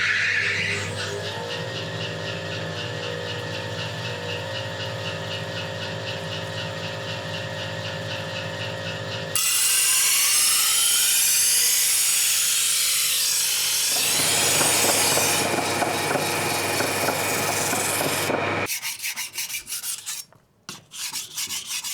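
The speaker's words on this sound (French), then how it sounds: "Donc là, j'allume la meule. Et on va procéder à l'émouture." A grinding wheel started up and then grinding the bevel of a multipurpose knife; a steady motor hum gives way to loud, close, harsh abrasive rasping that shifts in tone as the blade moves, then stops near the end.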